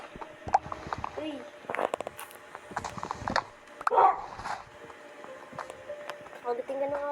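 Dogs bark and yip in short, irregular bursts, with some whimpering, amid excited shouting voices and scuffling.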